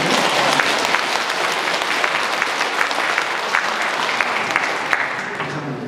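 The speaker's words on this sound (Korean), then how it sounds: "박수를 쳐주세요." Audience applause during a Lenten lecture at a Catholic parish church, a dense steady clapping of many hands that holds at an even level for several seconds with no pause.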